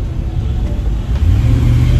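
A 2003 Ford SUV engine drones at close range with a steady low rumble, swelling slightly louder toward the end as it revs.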